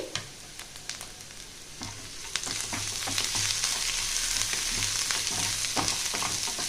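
Chopped garlic and grated ginger fry in hot oil, a steady close sizzle with a crackling hiss that grows louder partway through, broken by occasional stirring scrapes and no talking.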